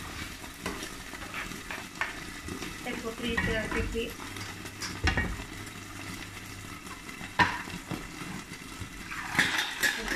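Clams with salt and pepper sizzle and crackle in a hot covered pan, with occasional clinks of metal and a brief voice speaking over the frying.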